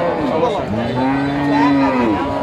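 A Friesian dairy cow at a cattle market in Bogura moos loudly and close, in a single drawn-out low call.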